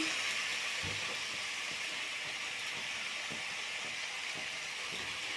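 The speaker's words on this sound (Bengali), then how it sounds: "মশলাটা দিয়ে প্রথমে কষিয়ে নিলাম ভালো করে দিয়ে লাউটা দিয়ে একটু ভালো করে কষে নিচ্ছি" Bottle gourd sautéing with spices, salt and turmeric in a pan gives a steady, broad sizzling hiss throughout, with a few soft low knocks, close and continuous with no talking.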